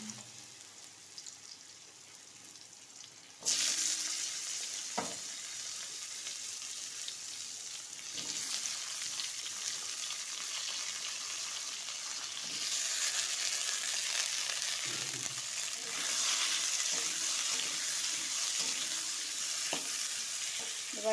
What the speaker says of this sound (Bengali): এবার শশাগুলো দিয়ে দেবো।